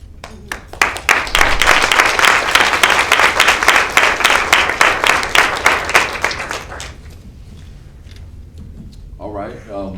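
Audience applause at a community panel on mobilizing against state violence, dense sustained clapping for several seconds that fades out, followed by a brief voice.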